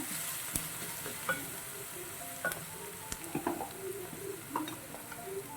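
Onions sauté in oil in a pan with a soft, low sizzle, while light clicks and scrapes of a utensil stirring come through intermittently and close by.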